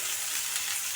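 Pieces of vegetable stem, potato and eggplant fry in a pan, making a brief, even, close-up sizzle with no voices.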